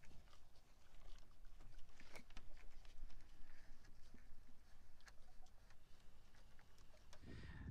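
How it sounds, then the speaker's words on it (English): A farm electric fence charger clicks steadily in the background, faint regular ticks repeating over low outdoor noise in cold weather near bison. "In case you're wondering what that clicking in the background is, it's our electric fence charger."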